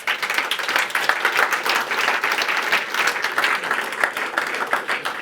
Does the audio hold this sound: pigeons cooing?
no